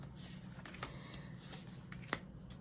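Tarot cards are shuffled close and quietly, with soft riffling and light paper flicks over a faint background hum, then one sharper snap near the end.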